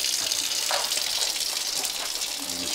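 Lukewarm tap water runs in a steady, close gushing stream as a female snake that has just laid eggs is rinsed off from head to tail.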